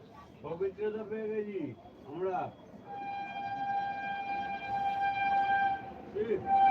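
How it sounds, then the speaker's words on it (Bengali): A train passes at a distance, its horn sounding as a sustained multi-tone blast through the second half, following a stretch where a voice talks over a faint rumble. "আমাদের এখানে ট্রেন যায় গাইজ"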